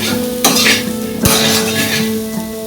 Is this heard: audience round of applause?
no